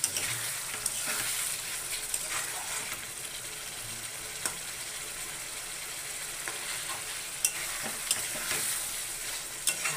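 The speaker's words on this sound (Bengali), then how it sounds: "তারপরে এটা দিয়ে আরও ভালো করে কষিয়ে দেবো" Spice masala sautéed in a pan, a soft steady sizzle broken by repeated spatula scrapes and clinks against the metal as it is stirred, close and fairly quiet.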